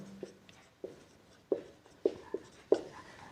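Pen or chalk strokes from handwriting during a lesson, a series of short separate taps and scratches at an uneven rhythm, close and faint, with no talking.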